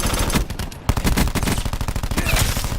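Rapid sustained automatic gunfire from the Cordite weapon in Call of Duty Black Ops 4 Blackout, a steady fast-rate burst of loud cracking shots running throughout with a brief dip before resuming.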